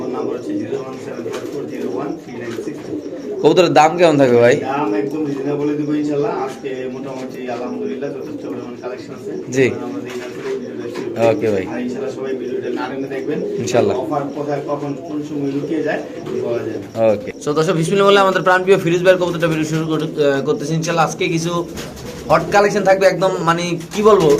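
Pigeons coo continuously in a crowded pigeon loft in Bangladesh, many overlapping throaty calls rolling on for the whole stretch, with people talking nearby.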